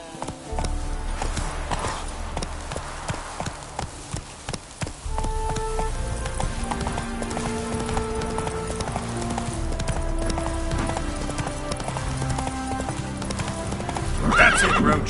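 A horse in The Witcher 3: Hearts of Stone gallops with a brisk, continuous clip-clop of hooves and lets out whinnies, all over a steady layer of game music.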